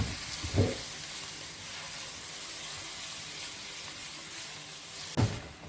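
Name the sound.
mushrooms, olives and peppers sizzling as they are stirred in a pan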